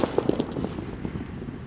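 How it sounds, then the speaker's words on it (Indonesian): A jumbo Halilintar firecracker goes off outdoors as a dense, crackling burst of rapid small pops over a steady noisy rumble, fairly distant and continuous, with no voices. "ini yang ukuran jumbo namanya mercon Halilintar"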